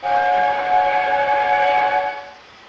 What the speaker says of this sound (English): I've never heard that whistle before.